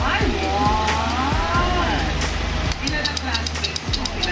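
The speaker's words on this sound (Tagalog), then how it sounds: "Rapid backfire." A vehicle exhaust tuned for rapid backfire sends out quick, sharp pops and cracks over a loud, steady engine rumble, bunching into bursts toward the end.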